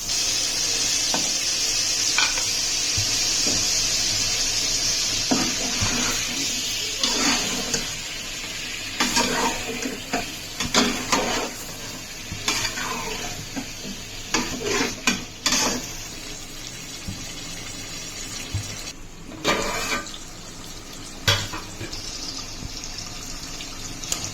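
Fried chicken stirred into a sizzling korma masala in a pot, loud frying hiss at first, then irregular scraping and clattering stirs over a steady sizzle.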